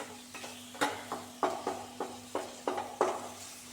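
Spices such as chilli, coriander and turmeric powder fry with small onions in oil, a soft sizzle under a steady hum, punctuated by about ten quick stirring scrapes and taps of a utensil in the pan.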